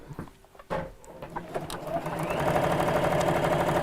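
A sewing machine running a pattern of a few straight stitches then a zigzag: scattered clicks and knocks first, then the motor spins up into a steady, fairly loud mechanical whir that holds to the end.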